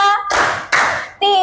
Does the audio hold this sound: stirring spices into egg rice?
no